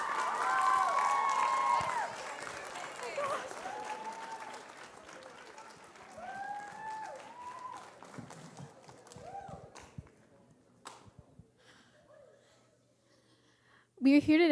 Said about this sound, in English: Big round of applause for Avery Breivik.